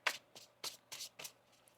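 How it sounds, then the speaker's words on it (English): A deck of tarot cards being shuffled by hand in a quiet room, five or six short riffling bursts in quick succession, close and fairly soft, with no talking. "One more shuffle here."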